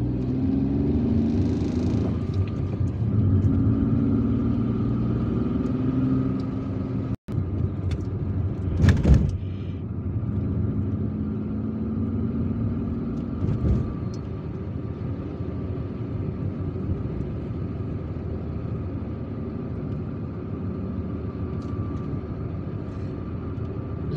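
Inside a car on a bypass road near Ain Benian in Algiers, a steady engine and road rumble drones for the whole stretch, with a brief louder whoosh of passing traffic partway through.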